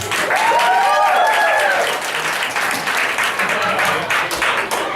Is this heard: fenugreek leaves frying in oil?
no